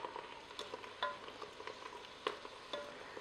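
Onions cook inside a Ninja Foodi while being stirred, giving a soft sizzle with occasional light scrapes and taps from the utensil, faint and close, and no one speaks.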